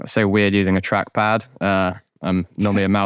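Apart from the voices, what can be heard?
None of the usual background noises is heard.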